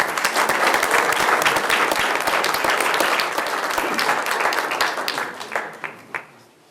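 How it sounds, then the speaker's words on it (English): Loud, full applause from a city council meeting audience for a group of kids, dense clapping close by that gradually thins into a few scattered final claps before fading out. "All right, let's give the kids a round of applause."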